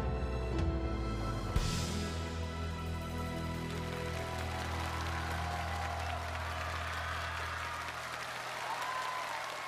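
A large theater audience applauds after a staged performance blending Peking opera with a virtual singer, steady sustained clapping filling the hall at moderate distance with no speech over it.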